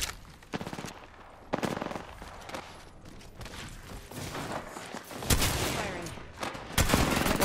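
Gunfire in a battle royale video game comes in rapid automatic bursts and single sharp shots, loud and close, repeating in clusters over several seconds.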